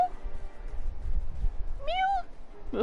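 A cat in Final Fantasy 14 gives one clear rising-falling meow, followed by a short second mew, over a low rumbling game background with faint voice-like murmur.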